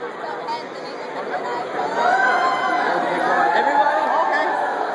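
Steady crowd chatter fills a large convention hall at Star Wars Celebration 6, many overlapping voices blending into a continuous moderately loud babble that swells slightly partway through.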